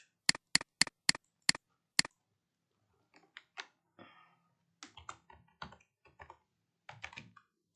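A computer keyboard is used to type an axis title for a chart in Microsoft Word: six sharp, evenly spaced key presses come first, then a looser scatter of lighter, quieter taps and clicks close by.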